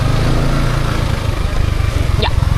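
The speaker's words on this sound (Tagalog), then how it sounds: "Ba't kasi may motor dito?" A motorcycle engine running close by on an island, a loud, rough, low rumble with pulsing throbs that runs through the whole moment, with no speech.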